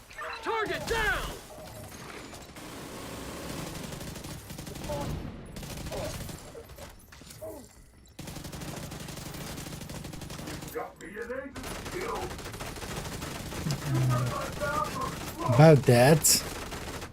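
Rapid gunfire and heavy firefights in The Division, automatic bursts and crashes rattling throughout while players shout and talk over the noise.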